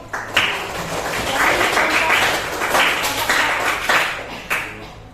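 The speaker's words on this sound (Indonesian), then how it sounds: "kasih tepuk tangan dulu" A classroom of students applauds a group of classmates, a dense patter of hand clapping that swells and holds steadily for several seconds with a few sharper claps.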